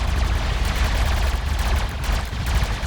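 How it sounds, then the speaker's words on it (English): Dense, continuous bursts of video game gunfire in an Unreal Engine 5 demo crackle and boom steadily throughout, with no voices, a loud rattling barrage of shots. "The gunfire is a little bit loud"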